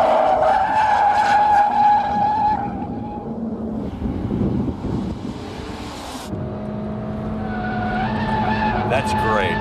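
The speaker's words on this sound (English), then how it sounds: "So I pushed it all the way down. Car is responding." A reasonably priced car lapping a test track, its tires squealing and skidding under hard acceleration as the engine revs rise and fall. The sound is loud and close, with someone talking over it.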